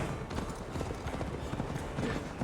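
A horse gallops in Assassin's Creed Valhalla, a continuous rapid drumming of hooves set deep in a dense, noisy game mix, steady throughout.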